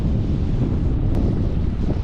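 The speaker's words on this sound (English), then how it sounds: "It's so windy" Strong wind buffets a microphone on an Assateague Island beach campsite, a loud, steady broadband roar and rumble that never lets up, with no voices.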